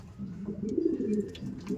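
A racing pigeon coos softly in a loft, a short low throaty call heard up close with faint background rustle.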